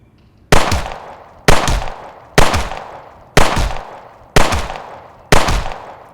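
Six loud gunshots from a gun in the zombie video game World War Z, fired one at a time at a steady pace about a second apart, each with a sharp crack and a decaying tail, no talking.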